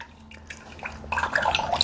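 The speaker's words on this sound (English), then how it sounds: "pour it into the strainer, and then it just drips" Milk kefir strained through a strainer, the whey dripping and trickling into a container beneath, soft at first and then a busier patter of wet drips close by.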